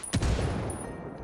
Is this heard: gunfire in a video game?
yes